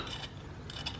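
A bolt is unscrewed on the exhaust of a 2020 Honda Grom, giving a quiet ratcheting click of the tool in short bursts, faint and close with no voices.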